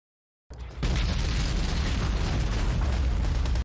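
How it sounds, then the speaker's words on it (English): Explosions in the war film Saving Private Ryan (1998): a sudden loud blast kicks off a sustained, heavy rumbling roar that stays dense and booming for several seconds. "Explosions!"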